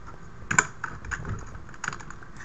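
Computer keyboard typing while logging into Minecraft, a few scattered keystrokes and clicks with one sharper tap, close and fairly quiet, no talking.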